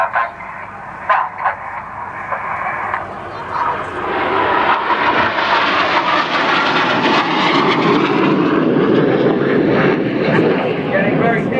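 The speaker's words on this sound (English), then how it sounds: "Now the 5th jet is going to roll around them a dozen times." Red Arrows jets fly the twister manoeuvre at the Southport airshow, a jet roar that swells from a distant whine into a loud, sustained rushing drone, with an announcer talking over the start.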